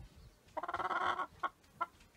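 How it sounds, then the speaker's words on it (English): A chicken gives one drawn-out, wavering squawk, then two short, sharp clucks in quick succession, close by and fairly loud with no talking. "Hey, chicken."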